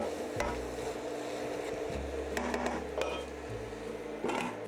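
A spoon stirs curry powder into hot oil in a pot of pumpkin curry, scraping and clattering in close, steady strokes over a soft, continuous sizzle.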